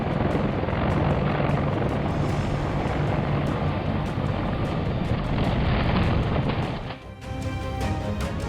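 A Catalina seaplane, a propeller aircraft, is landing on a runway: a loud, continuous propeller and engine roar with a rhythmic chopping pulse. It dips sharply for a moment near the end, then resumes.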